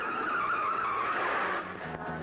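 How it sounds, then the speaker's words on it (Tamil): A car skids to a sudden stop with tires squealing, a steady loud screech that fades slightly near the end, with no talking. "ஏன் வண்டி நிறுத்திட்டீங்க?"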